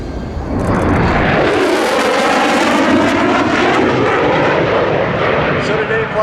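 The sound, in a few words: EA-18G Growler jet aircraft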